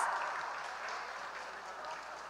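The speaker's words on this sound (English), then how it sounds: "Another round of applause." Faint, distant applause from an audience at an indoor tech challenge event, a steady soft patter of clapping lasting a couple of seconds.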